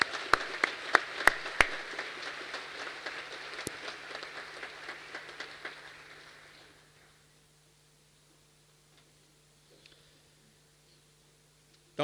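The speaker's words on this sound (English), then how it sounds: "Let's give them another round of applause as they now leave the hall." Applause at a university graduation ceremony as student musicians leave the hall, with sharp individual claps standing out from the crowd, fading away after about six seconds into near silence with a faint low hum.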